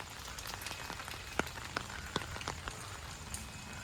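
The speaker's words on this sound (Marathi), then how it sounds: "आज आहे ना अचानक पाऊस वाढला आहे" Steady rain falling over a village setting with green farmland, a soft continuous patter with a few louder drops striking nearby, heard alone without talk.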